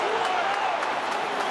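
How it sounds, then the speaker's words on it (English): A baseball crowd at loanDepot Park in Miami roars and applauds after a home run, a dense, steady wash of cheering and clapping. "as the crowd gets into it here at Lone Depot Park"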